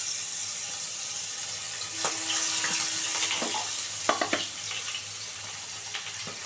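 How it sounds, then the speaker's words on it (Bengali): Pieces of bata fish fry in hot oil in a kadai, giving a soft, steady sizzling hiss with a few light clinks and stirs. "ভালো করে ভেজে নেব কড়া করে।"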